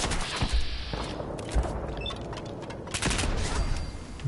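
Settlers fire guns in the game Fallout 4 Nuka World DLC, loud irregular gunshots in quick bursts that crackle over a busy, noisy background.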